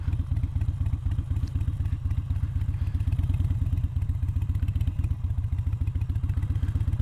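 Harley-Davidson Iron 883 motorcycle riding up onto grass, its engine thumping in a loud, steady rapid rhythm close up, with no pauses.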